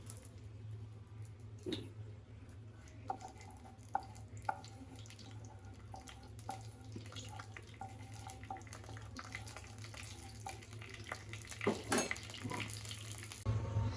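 Bay leaves and spices fry in hot oil on a home stove in a Bangladeshi kitchen, a faint, steady sizzle under a low hum, with a few soft clinks and taps.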